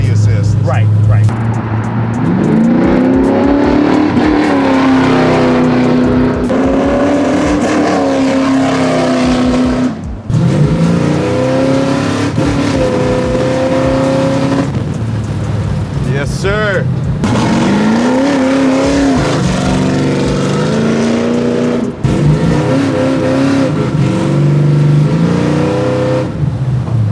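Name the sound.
800 hp 1966 Chevy Nova accelerating on takeoff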